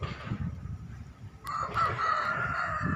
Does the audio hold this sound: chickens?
yes